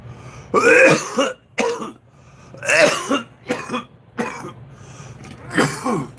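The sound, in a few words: coughing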